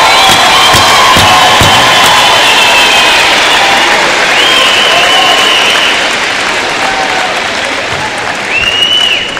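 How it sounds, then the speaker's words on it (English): A large audience at a 2012 high school graduation ceremony in Lapeer claps and cheers steadily throughout, a dense wash of applause with scattered whoops and shouts that fades slightly toward the end. "Give them a good round of applause."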